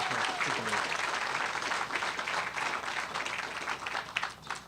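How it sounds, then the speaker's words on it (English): Audience applause at an animal shelter press event, dense steady clapping filling the whole stretch, moderately loud and fairly close, with a brief voice audible near the start. "Let's give him a round of applause for his tremendous work, his leadership."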